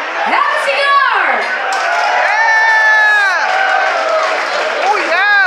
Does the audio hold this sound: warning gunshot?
no